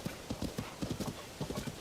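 Horse hooves clip-clopping in a video game, a quick run of light, even hoofbeats at a steady trotting rhythm, fairly close and played alone without talk.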